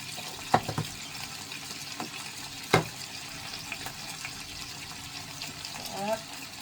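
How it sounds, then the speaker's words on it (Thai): Fish and vegetables stir-fry in a pan with a low, steady sizzle, broken by a few sharp clinks of a utensil against the pan and occasional soft scraping. "ใครก็ผัดเป็นอย่างเงี้ย"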